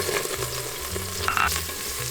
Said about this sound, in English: when you hear that nice sizzling sound, you know that the oil's ready for the cumin seeds